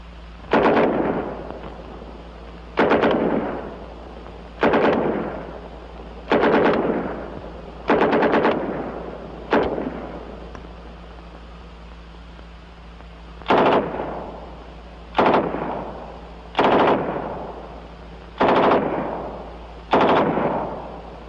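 An M3 .45-calibre submachine gun fires loud, close bursts one after another, each about a second long and separated by short pauses, with a longer break midway before the bursts resume.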